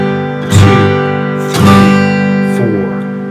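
A guitar rings out in three strums, two quick quarter-note chords followed by a longer half-note chord, each strum bright and sustained, close and clear with no voice over it.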